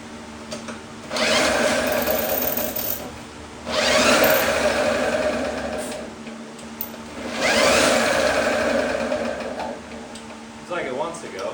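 A rare 1954 Lawn Boy RPM lawnmower engine, fed from a temporarily mounted fuel tank, fires up in three loud, rattling surges that each run a couple of seconds before dropping back, with quieter gaps between bursts.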